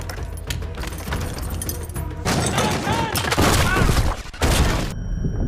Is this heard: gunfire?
yes